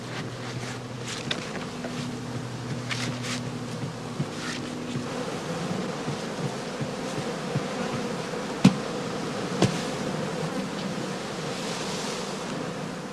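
Honey bees drone in a continuous close hum around heather straw skeps at a heathland apiary in northern Lower Saxony, with a few sharp knocks and clicks standing out against the steady buzzing.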